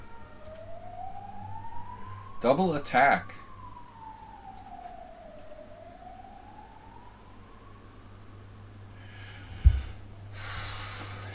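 An ambulance siren passes outside, a single rising and falling wail sweeping slowly at a moderate distance under brief talk.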